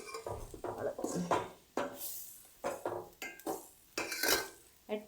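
A spoon scraping and knocking around a pot of chicken curry on the stove, several separate bursts of clattering and stirring in an irregular rhythm, close and fairly loud, with a little background noise between strokes.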